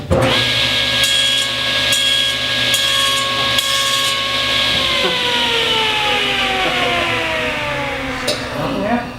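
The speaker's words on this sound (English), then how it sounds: "So I'm going to throw this into the saw." A table saw runs steadily with a bright, sustained whine, cutting through wood. The pitch sags partway through as the blade loads up, then winds down near the end.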